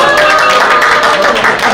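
A loud, dense burst of clapping from a crowd at a company alumni association's 29th anniversary general meeting and year-end party, continuous throughout with some voices mixed in.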